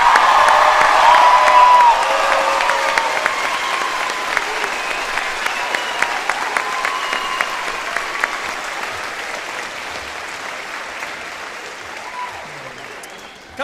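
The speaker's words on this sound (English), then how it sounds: "Let's give these students another round of applause." An audience applauds students at a senior recognition day after certificates are presented, starting loud and full and then thinning and fading over more than ten seconds, with a few scattered claps toward the end.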